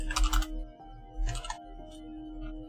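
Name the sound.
typing on a worn computer keyboard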